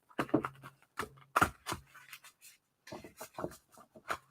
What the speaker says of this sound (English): I need to shuffle this deck though, because the energy of this deck needs to be cleared.